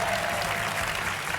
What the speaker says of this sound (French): On peut applaudir Stéphane, venu d'Aix-en-Provence.